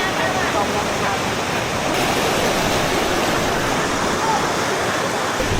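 Tumpak Sewu waterfall in East Java pours down into the river, a loud, steady, unbroken roar of falling and rushing water that fills the whole scene.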